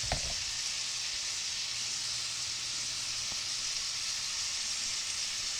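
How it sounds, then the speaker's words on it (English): Bacon frying slowly in a pan over an outdoor campfire gives off a steady, even sizzle with faint crackles throughout, close by and with no talking. "You should smell that bacon cooking."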